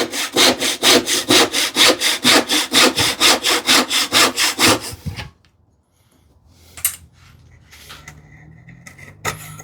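Hand saw cutting wood for a desktop organizer, about a dozen even back-and-forth rasping strokes up close, then stopping, followed by quiet handling noises and a few light knocks.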